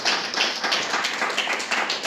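A church congregation claps in a quick, uneven rhythm, many hands striking close together in a loud, lively burst with no talk over it.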